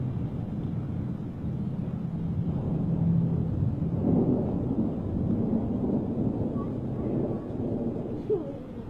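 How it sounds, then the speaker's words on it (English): Thunder during a thunderstorm, a low rolling rumble that swells and fades over several seconds, heard from a distance with faint background sounds and no clear talk. "We ain't scared of thunderstorms"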